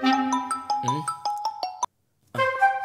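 A phone ringtone plays a bright, chiming electronic melody of quick repeated tones, close and clear, cutting off abruptly for half a second before starting again.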